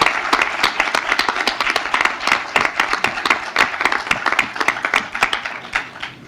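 Sustained audience applause in a conference hall honouring the vice president of Ecuador's National Assembly after a keynote on Ecuador's constituent experience, crisp, closely spaced claps that keep a steady density and taper toward the end.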